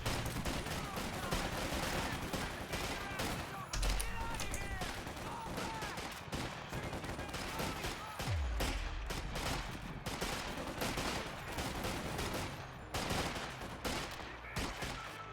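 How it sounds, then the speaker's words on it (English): Dense volley fire from rifles crackles through a Company of Heroes 2 battle, a near-continuous barrage of sharp overlapping gunshots with a heavier thump partway through, loud and steady throughout. "Yes, volley fire."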